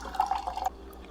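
A Ninja Thirsti drink machine dispenses a fizzy single-flavour drink, a short gurgling trickle of liquid with a few bubbly spurts, faint and brief.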